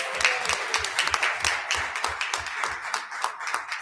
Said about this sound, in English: Let's give them all a round of applause, and their parents